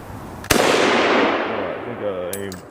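A Russian SKS rifle fires a single loud, close shot at a target, followed by a long rolling echo that fades out, with a voice starting up near the end.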